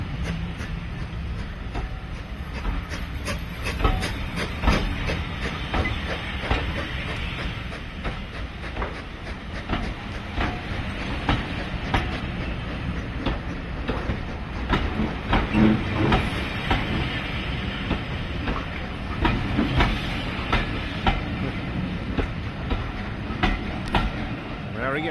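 A steam train on the Gloucestershire Warwickshire Railway near Winchcombe station runs past with steady rumbling, rhythmic clickety-clack of wheels and hissing, fairly distant and continuous throughout.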